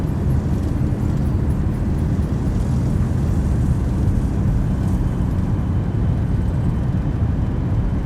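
A Boeing 737-800 in the X-Plane 11 flight simulator roars with thrust reversers deployed just after landing, a loud steady rumble of engine noise that fills the whole stretch without letting up.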